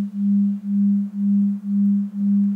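Two steady pure sine tones sound together, producing a slow, even beat: the combined tone swells and fades about twice per second in a regular pulsing pattern, clean and alone.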